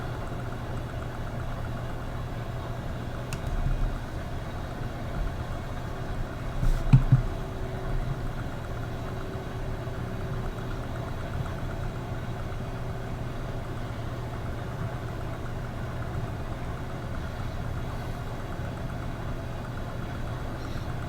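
A heavily loaded tractor engine in the video game Farming Simulator 17 idles in a steady, unbroken drone for the whole stretch, with one brief bump in level partway through.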